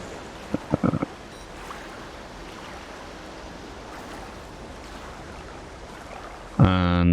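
Water in The Solus Project, a VR survival game, gives a steady wash of surging, surf-like noise throughout, with a few soft knocks early on and a brief harsher burst near the end.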